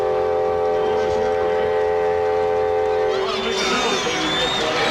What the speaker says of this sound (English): The train horn blast anyway